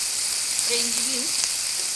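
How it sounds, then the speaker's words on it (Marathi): Potatoes, carrots and other vegetables fry in hot oil for a mixed kurma bhaji. A continuous close sizzle runs throughout, with a faint tonal squeak or voice-like sound briefly in the middle. "तेल गरम झालं आहे छान। आता मी भाज्या घालून फ्राय करून घेणार आहे।"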